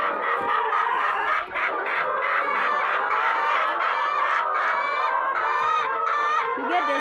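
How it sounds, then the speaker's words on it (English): Layer hens on a small village poultry farm clucking and cackling steadily, a dense continuous chorus of many birds close by with no talking. "You get the sound that belongs to the layers."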